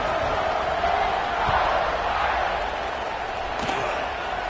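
A stadium crowd roars steadily at the kickoff in the NCAA 25 college football video game, a broad sustained cheer with a couple of faint thumps beneath it.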